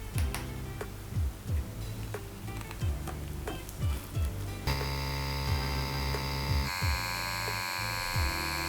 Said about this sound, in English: I'm starting here with a 3 round liner needle and adjusting the machine accordingly.